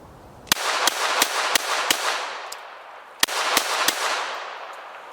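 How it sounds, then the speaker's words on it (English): Sharp shots from a full-size Smith & Wesson .22LR pistol: five evenly spaced cracks, a brief pause, then three more, loud and close with ringing decay and no talk. "Now I was going to shoot 5 rounds."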